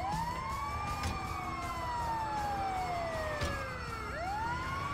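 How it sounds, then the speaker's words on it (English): Ambulance siren in Grand Theft Auto V, a loud wailing tone sweeping up and down with overlapping cycles, heard close over continuous traffic and engine noise, with no speech. "It's the ambulance!"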